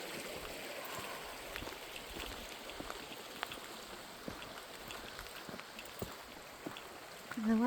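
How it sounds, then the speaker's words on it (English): A babbling brook on the Fern Canyon Trail runs steadily with a soft, even wash of water and scattered light splashes and trickles, continuous and moderately near, with no speech. "I do love babbling brooks."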